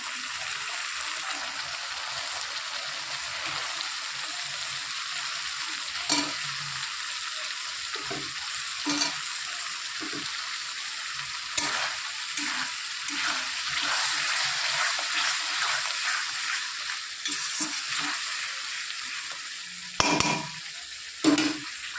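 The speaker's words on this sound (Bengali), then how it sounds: "মশলাটা একটু কষিয়ে নেব" Mustard, green chili, garlic and onion paste sautéing in a pan for a Bhola fish curry: a steady close sizzle broken by frequent scraping spatula strokes, with a couple of sharper clatters near the end.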